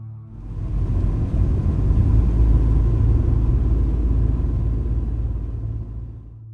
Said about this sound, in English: a lurking dark sedan was parked just out of sight, with its engine still humming in the night.